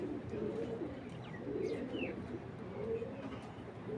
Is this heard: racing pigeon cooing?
yes